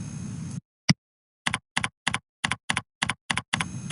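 Keys on a computer keyboard are tapped in short separate clicks, first one then a quick run of about ten evenly spaced strokes, close and clean with a quiet hum at both ends.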